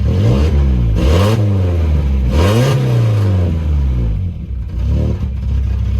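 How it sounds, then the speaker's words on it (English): A wagon's car engine free revs as the throttle is feathered. It gives loud, close rising and falling surges that climb and drop several times, then settle toward a rough, choppier idle near the end. "that's me feathering the throttle to keep it somewhat smooth. If I let off, it's kind of choppy, but it'll free rev all the way"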